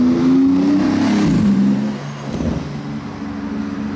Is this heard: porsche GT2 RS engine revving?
yes